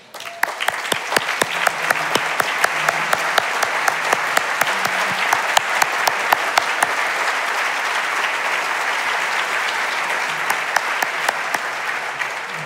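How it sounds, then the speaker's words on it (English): Audience applause at an annual dinner with a keynote address, a roomful of guests clapping steadily and evenly throughout, with a few sharp nearby claps standing out at the start. "because here's who gets the applause"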